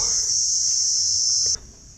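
A loud, steady high-pitched cricket trill fills the air nearby at an old cave dwelling near Sigiriya, Sri Lanka, then abruptly drops to a softer chirring near the end.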